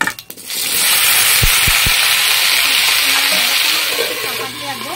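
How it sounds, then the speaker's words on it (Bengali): Okra and nigella seeds dropped into hot oil, bursting into a loud, sustained close sizzle after a few brief clatters, then frying steadily while the hiss slowly eases. "তেলটা গরম হয়ে গেছে, এবার দিয়ে দেবো কিছুটা কালো জিরা, আর এই ভিন্ডিগুলো দিয়ে দেবো"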